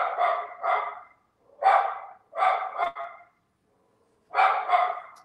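A dog barks loudly and close in short clustered bursts of two or three, with brief pauses between, as a delivery arrives at a house; no talking.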